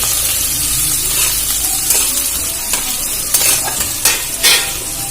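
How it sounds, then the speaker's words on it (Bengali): Chopped onion and garlic sizzle and crackle in a hot pan for egg veg pasta, with a spatula scraping and stirring in short bursts, close by and fairly loud. "পেঁয়াজ আর রসুন কুচি ভালো করে নাড়াচাড়া করে ভেজে নেব"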